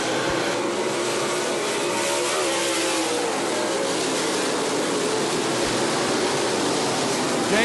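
Dirt track race car 19R roars off turn four, a broad, loud engine rush blended with crowd and track noise that holds steady and swells slightly near the end.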